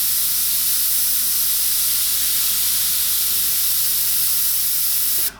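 An airbrush sprays paint onto a tiger artwork in a continuous, even hiss that runs alone and cuts off abruptly at the end.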